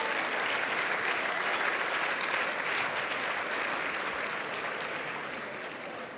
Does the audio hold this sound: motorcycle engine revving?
no